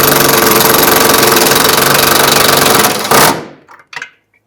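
A power tool runs the strap nut down on a 2011-2014 Hyundai Sonata fuel tank strap, a loud steady rattling whir for about three seconds, then stops abruptly with a few faint clicks after.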